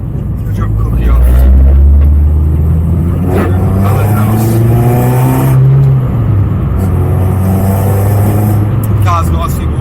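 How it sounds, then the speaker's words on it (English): A car engine runs and revs while driving, with a loud, rising and falling drone and rough road noise, and someone talks over it. "Car's nicely warmed up."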